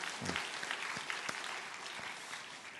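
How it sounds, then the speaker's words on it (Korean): A congregation at a Sunday church service applauds, a soft, steady patter of many hands heard from a distance and fairly faint. "우리 박수 한번 치겠습니다"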